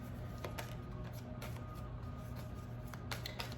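Tarot cards being shuffled, soft papery riffles and light flicks repeating in quick bursts against a quiet room hiss, with no voice heard.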